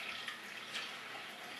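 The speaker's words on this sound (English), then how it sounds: "you will not really need much water, so just fill up the container" Tap water runs steadily into a container being filled for dry ice, a continuous hissing splash without pauses, close and moderately quiet.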